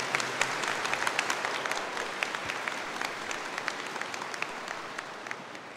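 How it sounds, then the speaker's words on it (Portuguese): Church congregation applauding during a Mass homily, steady dense clapping from many hands that tapers slightly toward the end, with no voices over it. "dá uma salva de palmas para essa consolação"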